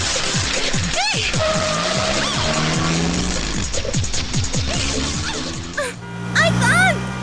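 A car speeds and skids during a chase scene in a Hindi-dubbed South Indian action film. Engines roar and tires squeal in repeated sweeping screeches, and people speak over the noise.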